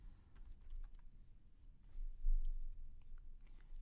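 Someone types the services command into the Metasploit Framework console on a computer keyboard, producing a quick, close patter of light key clicks over a faint low rumble, with no speech.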